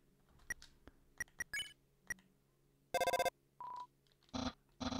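Phone dialing in the Undertale video game: sparse single key blips, then a few loud, steady electronic tone bursts of the call, each short and separated by gaps.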